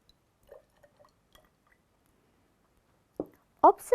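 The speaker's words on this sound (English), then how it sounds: "I am going to add hot water into each test tube." Hot water is poured into a row of test tubes holding different metals such as iron and copper, with faint drips and small glassy taps followed by short, louder splashes of pouring near the end.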